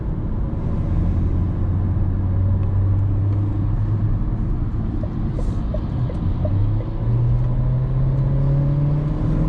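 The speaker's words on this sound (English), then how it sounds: "In higher RPMs, we always hear that engine noise inside." A 2022 Changan Eado Plus in sport mode at high RPM, heard from inside the cabin: a steady, loud engine drone and rumble whose pitch climbs, dips briefly, then rises again, with no talk.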